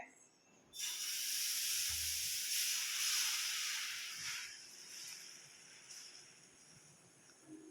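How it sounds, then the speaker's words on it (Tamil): Dosa batter hisses and sizzles loudly as it is poured onto a hot pan, a steady bright steam-like hiss starting abruptly and fading slightly toward the end. "நான் இப்போ ஒரு தோசை உங்களுக்கு ஊற்றி"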